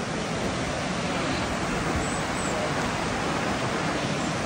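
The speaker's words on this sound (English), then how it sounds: "Nice little creek." A creek flows steadily through a forest on Miyajima Island, a continuous close rushing of water with no voices.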